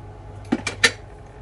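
A spoon taps and scrapes against a bowl while oat and almond flour are mixed with a pinch of salt, three short clinks in quick succession over quiet background.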